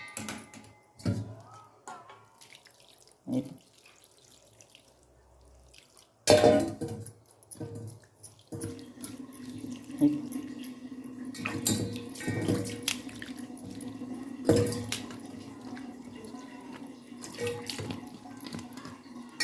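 Cold tap water runs over a sieve to rinse sabudana (sago pearls), starting with short intermittent splashes and then becoming a steadier, close running flow with small drips and clatters.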